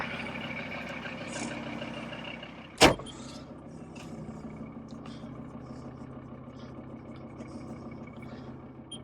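A VW T4 van engine runs with a low, steady idle rumble throughout, broken by one sharp knock early on, while people talk quietly over it.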